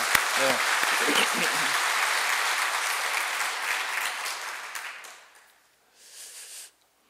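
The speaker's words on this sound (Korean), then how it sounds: "우리 하나님 앞에 우리 영광의 박수를 드리겠습니다" A church congregation applauds in a loud, dense burst of clapping that fills the room, then fades and stops before a short final smattering of claps.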